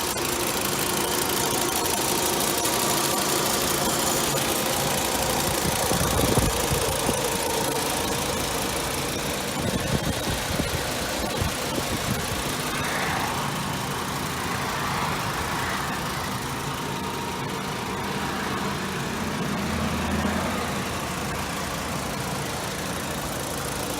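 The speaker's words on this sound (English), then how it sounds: "So I'll just be quiet and let you guys listen to the motor" A 2007 Volkswagen Rabbit's 2.5-liter five-cylinder engine idles steadily for a long stretch, an even mid-pitched rumble with faint ticking, close up and unbroken by talk.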